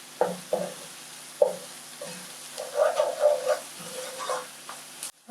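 Spices frying in a pan for an egg curry, with intermittent stirring bursts and a steady sizzle at close range, loud stirring pulses recurring every second or so, no voices.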